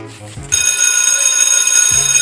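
A telephone rings with a loud, continuous bright electronic bell tone lasting nearly two seconds, close and clear, preceded and followed by brief low voiced sounds.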